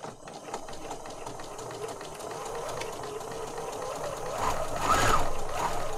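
A sewing machine stitching through a paper journal runs as a steady, close mechanical whir with a faint rattle, growing a little louder toward the end.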